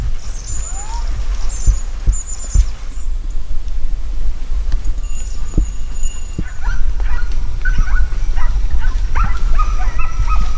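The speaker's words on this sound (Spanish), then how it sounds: "no dejan de sucederse las incesantes ladras tras las reses" Hunting dogs bark and yip after big game during a Spanish montería drive hunt in a reforested area near Oliva de Mérida, with scattered distant barks and whimpers over a steady outdoor background that grow busier toward the end.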